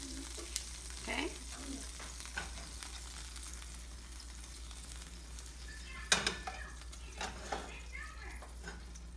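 Sirloin steaks sizzle faintly in a pan, a low steady hiss with occasional soft clinks and handling noises near the middle, and no clear talk over it.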